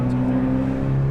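A new Chevrolet Corvette accelerating hard, its engine a steady loud droning roar close by with a pitch shift near the end, continuous for about a second.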